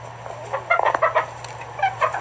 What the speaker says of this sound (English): This chicken is trying to eat one.